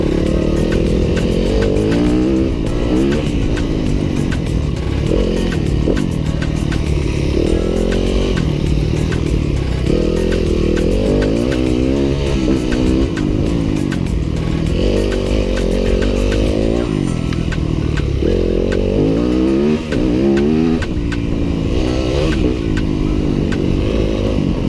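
A 2015 Yamaha WR-F 250 dirt bike engine runs loud and close throughout, its buzzing single-cylinder note rising and falling with repeated revs and gear changes, with no talk over it.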